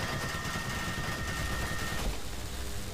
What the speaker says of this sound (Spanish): Usa la ametralladora, la MG.